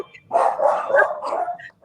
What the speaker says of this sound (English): That's the Mexican dog.